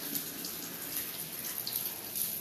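Water sprays from a kitchen sink sprayer set on high, a faint, steady hissing rush with slight splashing that continues evenly throughout.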